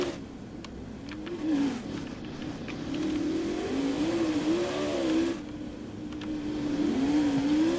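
A monster truck engine revs in Roblox Monster Jam during a freestyle at the World Finals, a steady mid-pitched roar rising and falling in pitch over crowd-like background wash, with no talk.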